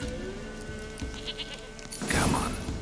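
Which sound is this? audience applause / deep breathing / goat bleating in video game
goat bleating in video game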